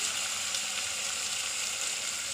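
Onion, ginger and chilli sauté in a pan with a loud, dense, continuous sizzle that holds steady throughout, with no voices.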